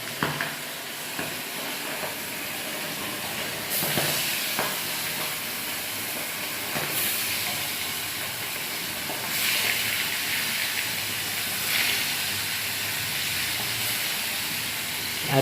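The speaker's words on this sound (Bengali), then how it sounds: "মাছগুলো ভেজে নেব।" Hilsa fish pieces coated in salt and turmeric fry in hot oil with a continuous, fairly close sizzle, broken by a few sharper bursts as the pieces are turned, and no one speaks.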